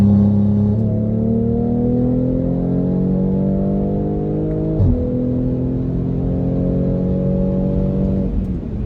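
A BMW X3 M40i running an MHD stage 2+ tune accelerates hard, its loud, close engine note rising steadily through the gears, with a brief dip at each shift and no talking.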